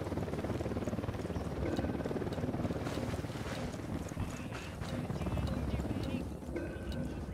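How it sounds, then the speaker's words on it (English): Helicopter rotor roar in the Ghost Recon Wildlands video game, a steady loud broadband drone that persists throughout, mixed with wind-like rushing and other game ambience. "Helicopter, get down."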